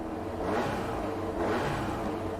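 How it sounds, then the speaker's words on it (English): Subaru GT300 race car engine in Gran Turismo 7, heard as a steady, fairly quiet idle hum with two gentle swells in revs, no talk over it. "I love that little new touch there with the sound of the engine starting as you select the car in the garage"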